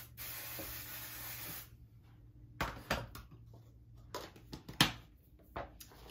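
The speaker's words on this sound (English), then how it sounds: "And we use our 505 spray." A can of 505 temporary adhesive spray hisses in one steady burst lasting under two seconds, followed by quiet handling clicks and light tapping.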